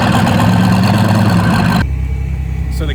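A deep, steady Corvette Z06 exhaust rumble drones loudly, then drops abruptly to a lower, smoother idle hum for the final second.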